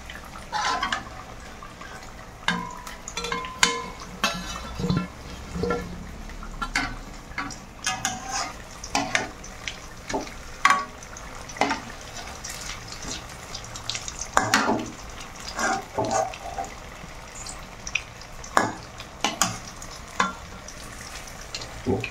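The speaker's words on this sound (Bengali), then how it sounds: "এইভাবে লাল করে ভেজে নিতে হবে, ব্রাউন ব্রাউন কালারটা হবে।" Nolen gur singara fry in hot oil with a steady bubbling sizzle, punctuated by frequent clinks and scrapes of a slotted spoon turning them, close up and with no talking.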